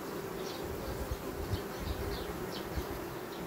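A dense, steady hum of many honeybees buzzing close by on a hive frame, with faint rustling and soft knocks underneath.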